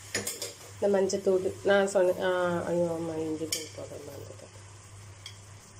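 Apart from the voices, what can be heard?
mutton gravy being stirred in a pan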